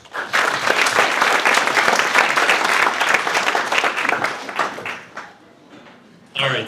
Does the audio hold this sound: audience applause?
yes